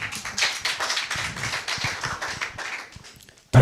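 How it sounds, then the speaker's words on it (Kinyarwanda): Applause for Miss Anita at a beauty pageant, a crowd clapping in a dense, steady patter that gradually thins toward the end before a sudden loud thump closes it out. "Amashyi menshi cyane kuri Miss Anita"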